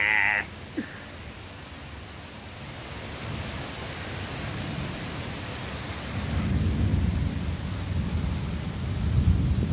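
Heavy rain pours in a steady hiss that swells louder in the second half, with a deep rumbling undertone like distant thunder and a brief tone right at the start.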